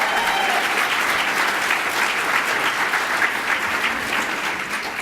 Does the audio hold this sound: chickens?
no